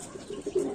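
Racing pigeon cooing, a short soft low coo close by in a quiet loft, alone without talk.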